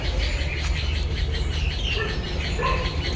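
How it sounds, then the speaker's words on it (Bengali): Many birds singing together in the Chintamani Kar Bird Sanctuary in Kolkata, a dense layered chorus of chirps and whistles over a loud, steady outdoor background, with no talk. "প্রচুর পাখির সাউন্ড"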